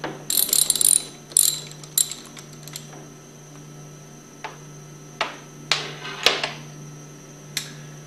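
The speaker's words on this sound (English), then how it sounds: "remove these plungers by taking your 9/16 socket and removing the nuts" A 9/16 socket ratchet loosens the plunger nuts on a Powerline plunger pump, sounding as quick bursts of metallic clicking followed by scattered single ratchet clicks and clinks, close and alone.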